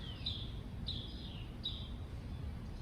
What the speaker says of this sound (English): There's like a bird that's like crazy loud.